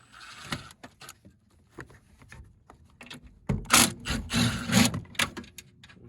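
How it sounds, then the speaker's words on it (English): Tools work screws loose on a lift kit for a 2018 Toyota Highlander front end, giving close, irregular clicks and rubbing scrapes, busier and louder in the second half. "we're gonna loosen up the 3 screws up on top"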